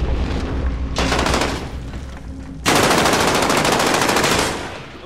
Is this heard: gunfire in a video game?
yes